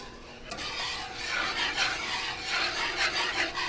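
Thick ricotta cheese thinned with water is stirred in a pan, giving a continuous wet scraping and rubbing sound in repeated strokes, close and fairly loud, with no talking.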